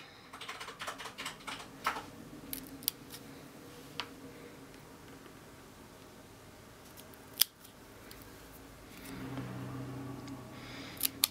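Scissors trimming a paper strip into a banner end for a handmade card, a series of quiet, close crisp snips and ticks with pauses between cuts.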